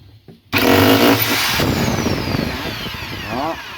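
Power drill whirring loudly up close on a Panasonic washing machine drum, starting abruptly and running continuously with a gritty, rising tone near the end.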